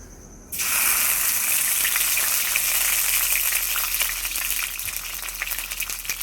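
Ground ginger, cumin and chili paste hit hot oil with a sudden loud sizzle that starts abruptly and keeps up a dense, steady crackling frying hiss, easing slightly toward the end.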